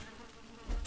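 Bees buzzing in the video game Valheim, a soft insect drone that swells louder near the end of a brief moment.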